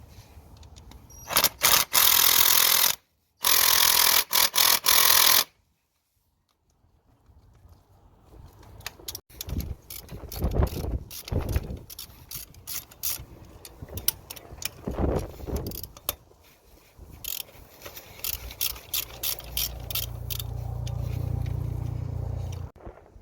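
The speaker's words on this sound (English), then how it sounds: "Now we're gonna undo these two bolts to remove the clamp here." Bolts on a starter motor clamp of a Mitsubishi Lancer Carisma are undone, with bursts of rapid ratcheting clicks and metallic tool knocks close by, followed by scraping and a low rumble.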